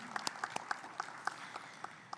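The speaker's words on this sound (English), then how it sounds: "A round of applause for Pak Iman" Scattered applause for Pak Iman, a former WTO ambassador, at an Indonesian panel event on ASEAN: a modest, thin patter of separate claps, sparse and fairly distant, with a few sharper individual claps standing out and no talk over it.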